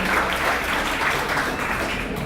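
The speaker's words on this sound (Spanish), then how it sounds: "también el aplauso para iniciar la intervención" Applause greets speaker Julián at a session on social policy and children's rights, a short, steady burst of clapping that carries evenly to the end.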